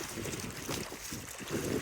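Sea waves wash softly around a small boat on a calm trip out to sea, a faint continuous swish mixed with light wind noise and no voices.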